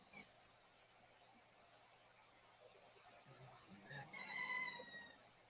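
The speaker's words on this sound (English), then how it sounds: "Who has got the roosters?" Roosters crowing at a distance, a faint call rising late in the stretch over a low steady hum, with no other clear sounds.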